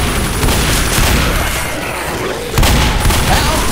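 Dense, continuous gunfire from the co-op zombie shooter Left 4 Dead, a loud sustained barrage of overlapping shots with a brief dip before the firing surges again.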